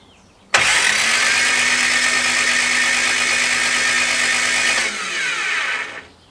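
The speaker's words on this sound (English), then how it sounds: "We'll pull the plugs and then we can crank the engine over again" A 1969 Lotus Europa engine, a barn find stored 15 years, cranks over with its spark plugs removed, a loud, steady mechanical whirring that starts abruptly, holds for several seconds, then winds down and stops.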